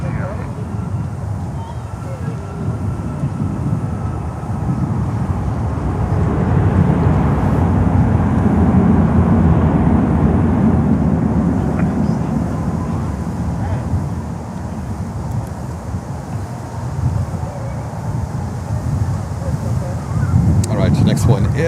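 An American Airlines airliner lands on runway 9 at Miami Airport, a broad, loud roar swelling and fading over about twenty seconds amid wind noise.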